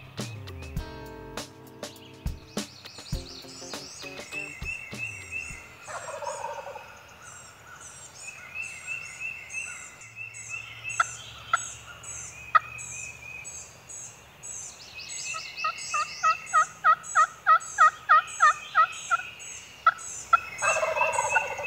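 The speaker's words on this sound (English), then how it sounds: "As we were stopped, the birds gobbled" Wild turkeys gobble from their roost near the edge of a food plot, a series of loud rattling gobbles at varying distances with repeated bursts, over faint insect chirps.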